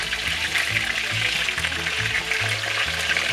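Chicken thighs sizzling steadily in a frying pan after being flipped, a constant bright crackle close by with low bubbling underneath and no talk.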